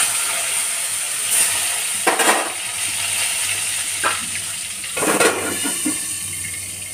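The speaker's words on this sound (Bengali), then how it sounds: "আমি বেগুনটা ভেজে নিচ্ছি" Brinjal slices fry in hot oil with a steady hiss, broken by three louder bursts of spatter, likely as pieces are moved or turned in the pan; no voices.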